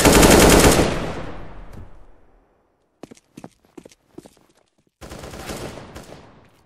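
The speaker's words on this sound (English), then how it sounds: "I'm throwing a flash. Throwing a flashbang." In the video game CS:GO, a flashbang goes off with a loud blast that rings and fades over about two seconds. A few sharp, scattered shots follow, then another heavy burst of gunfire.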